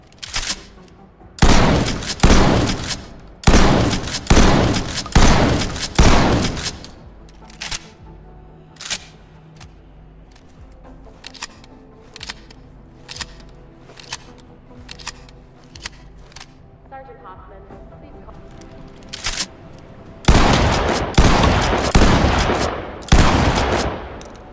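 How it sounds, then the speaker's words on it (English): Pump-action 12 gauge Supernova shotgun fired in the Ready or Not SWAT game: loud, sharp blasts in quick bursts of several shots, a quieter stretch of clicking handling sounds between them, then another rapid volley at the end. "Supernova shotgun. This will be a pump action shotgun loaded in 12 gauge."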